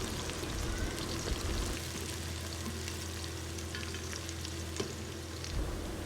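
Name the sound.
frying onions and green chillies while mixing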